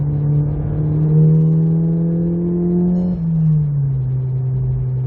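A car with a Baun Performance catback exhaust drones loudly from inside the cabin in third gear, pitch climbing steadily as it accelerates, briefly dipping at a gear change before rising again.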